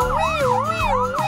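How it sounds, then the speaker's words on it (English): A fire truck siren in the Roblox video game wails loudly and steadily, its pitch sweeping up and down in a continuous cycle with an engine hum underneath. "It sounds like a fire truck siren."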